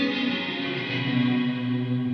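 A Big Top Effects guitar pedal set to full reverb mix gives a sustained, washed-out tone, a steady ringing chord with little dry signal, alone and moderately loud.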